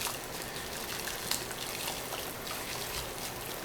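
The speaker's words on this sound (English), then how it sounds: "we're going to add the plaster now into the bucket of water" Plaster powder is sprinkled into a bucket of water while making a plaster bat, giving a steady, soft hiss and trickle of settling powder and water that continues evenly throughout.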